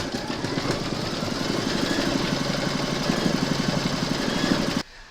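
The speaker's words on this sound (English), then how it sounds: "Pop your hoop into your machine and stitch round number 9 to secure it." An embroidery machine stitching a cherry coaster in the hoop runs with a steady, fast buzzing needle rhythm, loud and close, for about five seconds before stopping abruptly.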